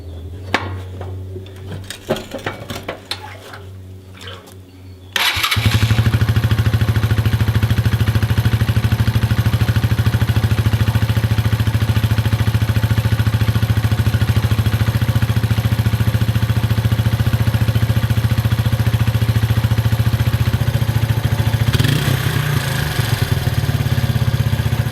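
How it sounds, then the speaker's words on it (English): A Suzuki motorcycle engine in a rebuild project fires up after some quiet clicking, then settles into a loud, steady, close idle that runs on for about twenty seconds. "So I'm gonna pull back on the top here and start the engine."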